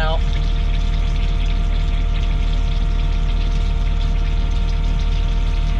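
A Brush Cat's engine idles steadily up close with a continuous low rumble and a pump-like hum as fluid gurgles into a jug, a faint whine riding on top throughout.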